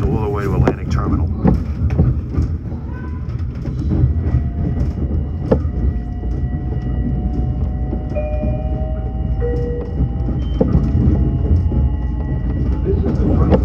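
A Long Island Rail Road train rolls along the Atlantic branch toward Penn Station, a steady low rumble with wheel clatter and brief squeals, heard from inside the car while a recorded announcement plays.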